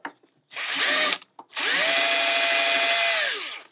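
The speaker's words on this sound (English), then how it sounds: "start with giving myself a little pilot hole to follow." A power drill bores a pilot hole and then a Forstner bit cuts into wood for a deck hatch on an International 2.4mR sailboat, heard as two loud, close whirring runs: a short burst followed by a longer steady spin that winds down.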